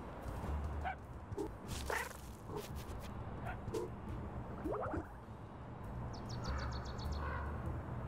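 A dog in the video game Little Kitty, Big City gives several brief barks and yips, moderately faint within busy game sounds, bright chimes and a low steady hum, with no talk over it.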